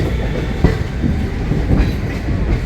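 Passenger train, the Yog Nagari Rishikesh summer special, rolling along steadily with continuous low rumble and rhythmic clickety-clack of wheels over rail joints, heard from on board with no talk.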